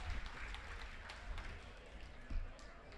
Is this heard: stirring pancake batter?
no